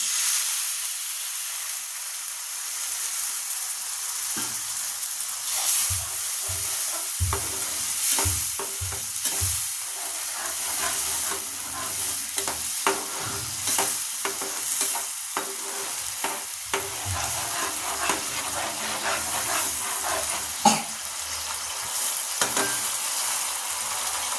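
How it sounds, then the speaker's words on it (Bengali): Spices for a rohu fish curry sizzle and crackle in oil in a pan while a utensil scrapes and stirs in irregular strokes, with a steady hiss underneath. "তেল দিয়ে একটু নাড়াচাড়া করে নিই"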